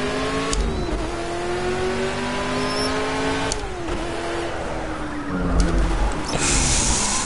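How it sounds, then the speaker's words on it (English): A Ford Mk IV race car revs in the Project CARS racing game. The engine drones loud and steady, its pitch rising and falling through repeated revs with no pauses and no voices. "Now for the sound of the revs it's not too bad"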